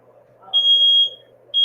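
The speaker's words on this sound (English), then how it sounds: "Stupid fire alarm going off." Smoke alarm set off by a burnt tortilla in a home, sounding two loud, piercing electronic beeps, the first held about half a second and the second starting at the end, over a faint low hum.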